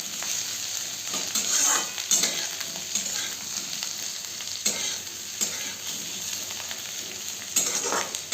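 Potatoes frying in a pan of hot oil, a steady close sizzle with scraping stir strokes at intervals throughout.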